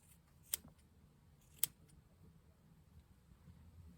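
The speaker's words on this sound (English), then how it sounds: "this fabric is a little bit big, so I'm gonna cut it" Scissors snip through a small piece of fabric being trimmed for a leather seat repair, two sharp separate cuts in a quiet room.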